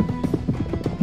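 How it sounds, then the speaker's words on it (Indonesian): Horse hooves and horse-drawn chariots as a sound effect: a rhythmic, close clatter of hoofbeats in quick succession with a rumbling undertone, heard on its own. "Sepertinya suara kuda dan kereta berkuda."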